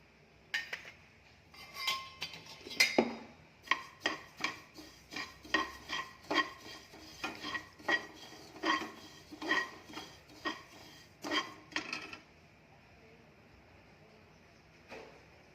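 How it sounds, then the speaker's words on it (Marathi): Sesame seeds roast in a pan while a spoon scrapes and taps the metal in a steady run of clinks, which stop before the end and leave quiet background hiss. "आता तीळ भाजायचे आहेत"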